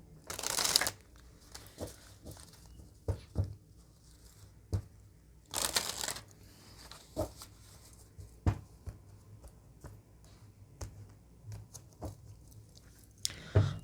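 A deck of cards is shuffled close up, with two loud riffling bursts and a final one at the end, separated by softer taps, slides and card handling.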